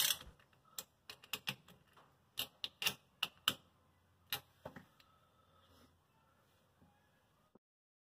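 Small screws on an electric range's terminal block are snugged down with a hand tool, producing sparse, quiet clicks and ticks in irregular clusters close by, fading out toward the end.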